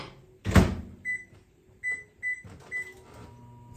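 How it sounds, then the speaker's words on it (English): A kitchen microwave oven is started while food is being pre-prepared: a thud of the door closing, then a few short electronic beeps from the keypad over a low background hum. "And then the microwave it goes"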